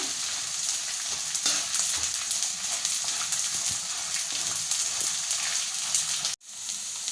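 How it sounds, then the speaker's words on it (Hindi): Edible gum (gond) fries in hot pure ghee over a high flame, a loud, dense, rain-like sizzle holding steady throughout and then cutting out abruptly near the end. "2 से 3 बड़े चम्मच मैंने प्योर घी को गरम कर लिया है, उसमें मैं गॉन को फ्राई कर लूँगी।"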